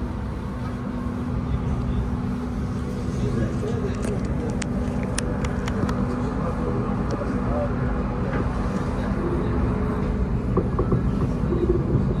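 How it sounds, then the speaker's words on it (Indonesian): Sembrani express train, a 2024 stainless-steel set, speeding up after leaving Gambir station, heard from inside as a continuous loud rumble with rattling and faint high squeals, and people talking over it. "Ini sudah lepas gambir tapi langsung dikebut oleh masinis."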